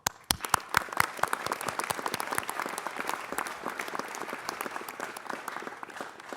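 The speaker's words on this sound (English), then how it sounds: "certainly deserve another round of applause" Scattered, distinct claps grow into steady applause from a modest city council meeting audience, with individual hand claps standing out sharply at the start.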